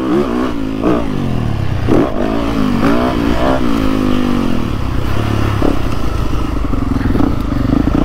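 Motorcycle engine revving and surging unevenly as the bike struggles over a small step on a rough night track, loud and close, with some clatter and scraping and a voice briefly under the engine.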